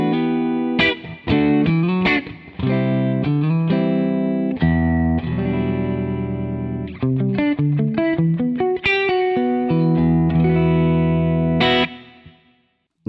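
Electric guitar playing a busy run of chords and single notes with a short, smooth reverb tail that dies away quickly when the playing stops.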